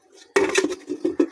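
A metal lid clanks onto a pan of simmering chicken feet and gizzard gravy with a sharp close clatter, then a few lighter rattles and clinks as it settles.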